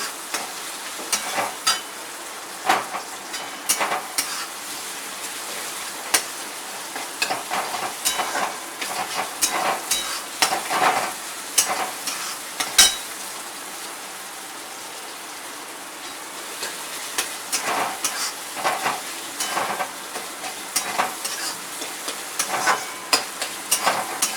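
Tomatoes fry in a pan for a dried-fish sukat dish, with a steady crackling sizzle broken by frequent scraping stirs of a spoon, close and continuous.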